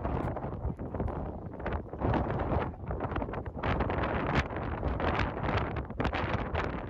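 Strong wind buffets the microphone near the Cliffs of Moher in Ireland, a continuous rough roaring rumble with gusty surges, loud and close, with no talking.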